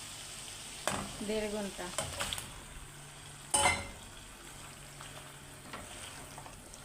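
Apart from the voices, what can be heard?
marinated beef frying and being stirred in a pan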